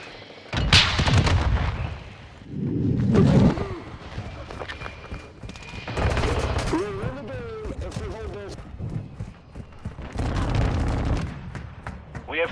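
Call of Duty: Modern Warfare II match with bursts of gunfire and artillery booms. The bursts come in loud clusters, and game voices call out between them.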